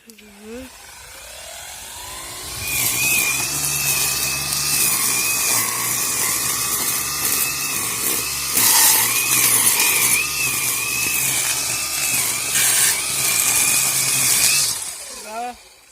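A cordless Grant ATG 20 grass trimmer with a freshly charged battery revs up and runs with a high, steady whine, fairly loud and close, then winds down near the end.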